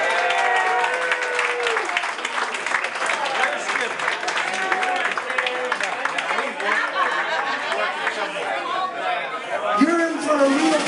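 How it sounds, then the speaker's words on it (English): A crowd at a Pier House jazz night applauds Skipper Krippis with a steady patter of clapping mixed with lively chatter and overlapping voices throughout. "how about a nice round of applause for Skipper Krippis?"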